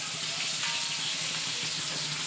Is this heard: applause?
no